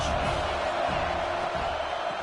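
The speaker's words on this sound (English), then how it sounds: "this crowd is turning it up a notch" A football stadium crowd roars in a dense, sustained wall of cheering and noise throughout, with a commentator's voice faintly over the din.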